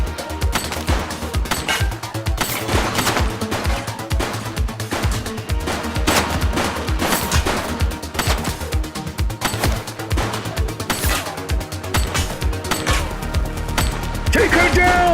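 Rapid, sustained gunfire in a police officer video game crackles through the whole stretch, with dense bursts and single loud cracks repeating close by, while voices shout intermittently underneath.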